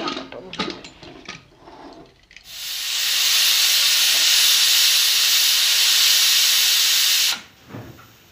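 A pressure cooker boiling chana dal with turmeric lets out one long, loud, steady hissing whistle lasting several seconds, then cuts off sharply, preceded and followed by a few clinks and knocks.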